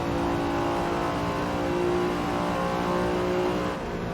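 An 80s or 90s supercar accelerates hard down a drag strip, heard from inside as a loud, steady, unbroken engine roar with a slowly rising pitch that holds through to the end.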